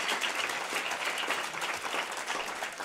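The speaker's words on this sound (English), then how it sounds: "Thank you for clapping." Audience at a talk on farming and feeding people sustainably breaks into steady, dense applause, many hands clapping together at an even level throughout, with no voices over it.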